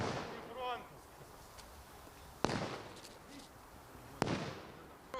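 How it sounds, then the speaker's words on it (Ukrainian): Gunshots and explosions ring out during military training for civilians by an assault brigade, two sharp distant bangs a couple of seconds apart over a noisy outdoor background with faint voices. "Вона супроводжується пострілами, вибухами."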